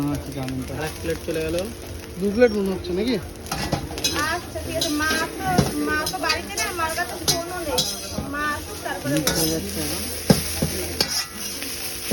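Egg and vegetables for egg chowmein are stir-fried in a pan. Steady sizzling runs under frequent scraping and clinking of a utensil against the pan, and people talk over much of it.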